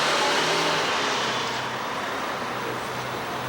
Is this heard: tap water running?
no